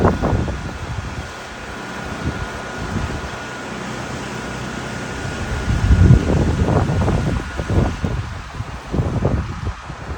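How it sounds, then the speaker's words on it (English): A strong afternoon wind blows outdoors in winter, sending rumbling gusts that buffet the microphone. The gusts swell and surge harder in the second half, and no one talks. "This wind is brutal this afternoon."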